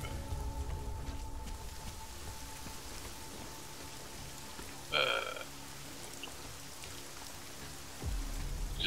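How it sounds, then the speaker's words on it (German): Steady rain falls in the video game Deus Ex: Mankind Divided, a dense, constant hiss of drops with a brief louder splash of sound midway and no talking. "Eben hat es nicht geregnet, jetzt schüttelt das schon wieder."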